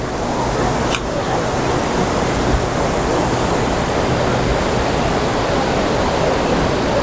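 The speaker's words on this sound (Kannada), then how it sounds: "ಶಬ್ದ ಕೇಳಿಸೋದು ಕಡಿಮೆ, ಯಾಕೆಂದ್ರೆ ನೀರಿನ ಶಬ್ದ ಅಷ್ಟೊಂದಿದೆ ಇಲ್ಲಿ." A waterfall plunging into a deep chasm beside a cave, a loud, steady roaring rush of water that fills the whole span without pause.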